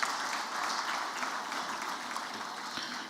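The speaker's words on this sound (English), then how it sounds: "I'd like that we welcome all the governors with a round of applause" A dinner audience gives a round of applause to welcome state governors, a steady, even wash of clapping heard at moderate distance throughout.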